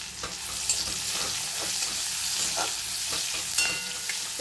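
Onions fry in hot oil with nigella seeds, a dense close sizzle broken by repeated scraping strokes of a spoon stirring the pan.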